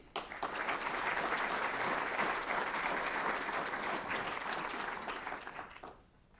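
An audience at a conference in St. Louis applauds to welcome Governor Bowman, a full, steady round of clapping that swells quickly, holds, and fades out near the end.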